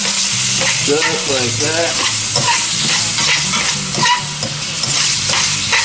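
Iguana tail and ham are stirred in a hot, sizzling pan, Everglades style, with a loud continuous fry and the repeated scrape of the mixing utensil while a person talks briefly.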